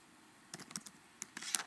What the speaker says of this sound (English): And then you can just keep typing